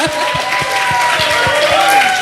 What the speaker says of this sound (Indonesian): Tepuk tangan dulu untuk media